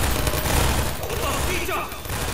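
An automated turret in Half-Life 2 VR Episode 2 firing a continuous rapid stream of shots, dense and loud throughout, with voices shouting underneath.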